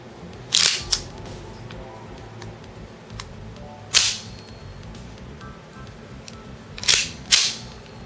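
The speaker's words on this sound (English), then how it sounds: "giving a loud, satisfying metallic clank when you let the slide slam forward" The slide of a WE M84 Beretta Cheetah airsoft pistol slams forward with sharp metallic clanks, five distinct snaps in irregular pairs over a quiet background.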